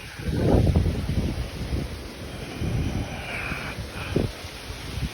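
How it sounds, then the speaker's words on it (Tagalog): Strong typhoon wind in the Philippines, gusting in rough, rumbling surges with rustling, loud and close, rising and falling over a few seconds without talk. "Lakas yung hangin."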